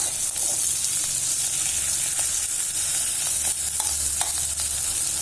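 Tomatoes sauté in oil for a spicy garlic chutney, giving a loud, even sizzle with scattered small pops and occasional stirring scrapes, close and unbroken.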